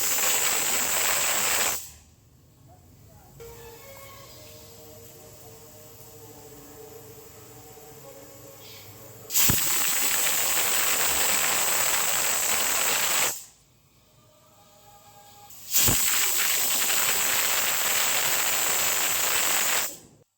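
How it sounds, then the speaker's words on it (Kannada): A pressure cooker cooking jackfruit seeds on a stove lets off long, loud hissing whistle blasts of steam, two separate bursts with quieter stretches between them. In the quieter stretches there is low kitchen rumble and faint clinks. "ಕುಕ್ಕರ್ನ ಇಟ್ಕೋತಾ ಇದ್ದೀನಿ. ಹಲಸಿನ ಬೀಜನ 2ರಿಂದ 3 ವಿಷಲ್ಲು ಹಾಕಿಸ್ಕೋಬೇಕು."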